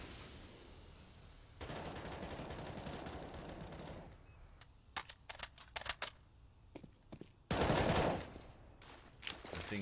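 Gunfire in Counter-Strike: Global Offensive during an ESEA Advanced EU match, with sustained bursts of automatic fire, then a string of sharp separate shots and another dense burst.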